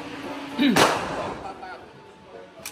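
One sharp gunshot from a CZ Evo3 S1 rings out at a target, a sudden loud crack with a short decaying tail, followed by quiet and a faint click.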